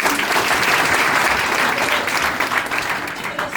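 An audience applauds loudly and steadily after an introduction at a gathering, a continuous wash of many hands clapping throughout, with some crowd noise underneath.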